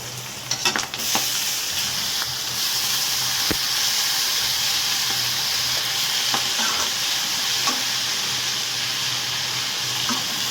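Gangavalli leaves frying and being stirred in a pan, a steady close sizzle and hiss with occasional scraping clicks of the spoon against the pan.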